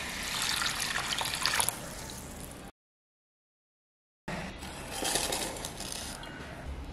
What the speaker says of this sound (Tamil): நம்ம தண்ணி ஊற்றி ஊற வச்சிடலாம் ஒரு நாலு மணி நேரம்